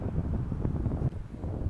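Wind blowing outdoors on a mild day, a loud, steady low rumble buffeting the microphone without pause for the whole stretch.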